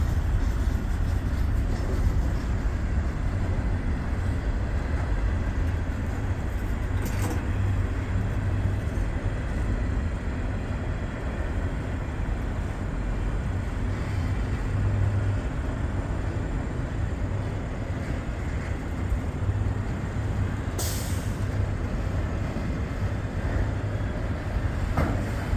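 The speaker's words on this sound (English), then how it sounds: "Coming down there is the train that's going to pass by at the same time here in just a moment." A Norfolk Southern freight train with lumber cars, tankers and autoracks rolls past on a line north of Findlay, Ohio, a steady loud rumble lasting throughout with no voices.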